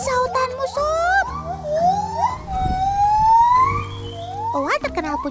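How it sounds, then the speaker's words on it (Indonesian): Javan gibbon in a rehabilitation setting gives its loud ringing song, a series of rising and falling whooping notes climbing in pitch, close and echoing, with a person briefly talking. "Owa terkenal punya sautan seperti nyanyian yang nyaring menggema begini teman."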